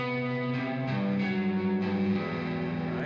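An electric guitar played through a delay effect with vibrato and reverb, sustained chords whose repeating echoes blur each change into the next, steady and fairly loud throughout.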